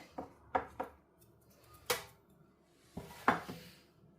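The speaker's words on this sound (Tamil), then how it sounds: "இப்போ நாங்கள் மிக்ஸ் பண்ணிவிட்டு பார்க்கலாம்." Spoon clinks and scrapes against a bowl while date cake batter is mixed with flour, giving a handful of sharp, uneven knocks spaced apart at close range, with no talking.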